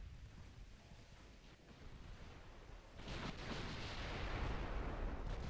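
Heavy naval artillery strikes in Ultimate Admiral Dreadnoughts rumble as a low, broad roar that swells louder partway through into a sustained, distant-sounding barrage with no talk.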